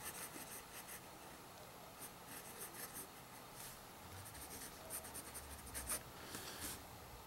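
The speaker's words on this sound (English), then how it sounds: "Still kind of a wet writer for an old inlaid nib, but I do like how it writes much better." Nib of a vintage Sheaffer Imperial IV fountain pen with an old inlaid nib scratching steadily across paper, a close, continuous soft rasp of writing strokes with no voices.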